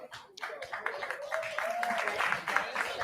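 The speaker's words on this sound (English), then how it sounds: "So let's give them a big round of applause" Applause at a school board meeting, with the audience clapping steadily and growing louder after a quiet start. A rising whistle-like tone sounds through the middle, and voices chatter underneath.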